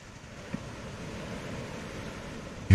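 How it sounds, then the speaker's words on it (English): A broad, steady wash of ocean surf plays as a beach sound effect, soft and continuous with a faint low rumble, ending in a brief louder thump. "Okay, here we go. Here's beach sounds."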